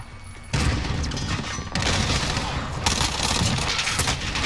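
Bursts of automatic hip-fire gunfire in the video game Modern Warfare, loud and dense, arriving in three sustained volleys with brief gaps between them and no talk over it.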